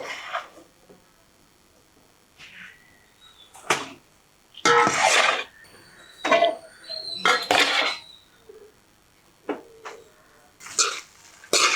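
Rice tipped into a pan and stirred for Jaffna-style fried rice, giving a run of sharp metallic scrapes and clinks in separate bursts, close and fairly loud, with quieter gaps between strokes.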